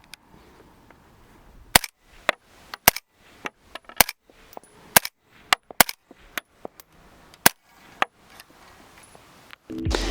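A 300 Blackout rifle fitted with a CAT Johnny Law Ti silencer fires about fourteen sharp, clipped suppressed shots at irregular intervals, each followed by a faint metallic ring, firing super and subsonic rounds outdoors, with a rustle at the end.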